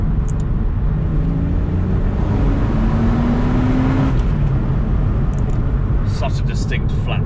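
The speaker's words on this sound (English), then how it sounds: "Such a distinct flat six sound this car makes, I love it." A Porsche 986 Boxster S with its flat-six engine drives through a short tunnel, a loud, continuous close-up engine drone echoing off the walls, with a few faint higher sounds near the end.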